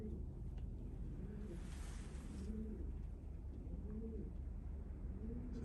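Young racing pigeons in a loft give soft, low, repeated coos at a quiet level against a steady hum of background noise.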